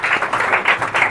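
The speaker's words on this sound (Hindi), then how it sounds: "तालियां उनके लिए भी, तालियां यार।" Applause for a newly appointed deputy SP at a motivational talk, a crowd clapping steadily and loudly in a dense wash of hand claps with a few stronger swells, no speech over it.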